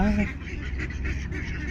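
Ducks quack on an early-morning walk, a short burst of calls heard close by while a person speaks over them.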